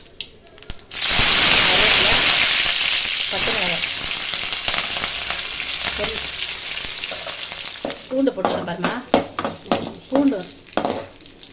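Onions dropped into hot oil with mustard seeds and urad dal in a pan, a sudden loud burst of sizzling and crackling that gradually fades, followed by stirring scrapes and someone speaking near the end.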